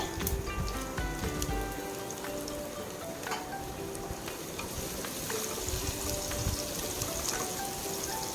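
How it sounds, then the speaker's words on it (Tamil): Garlic sizzles and crackles steadily in a hot pan as it is sautéed for a mushroom and chicken stir-fry, a dense close frying hiss running the whole time with small pops and stirring scrapes, no talk. "வெள்ளைப்பூண்டையும் சேர்த்து ஒரு 2 நிமிஷம் நல்லா வணக்கி விட்டுக்கோங்க"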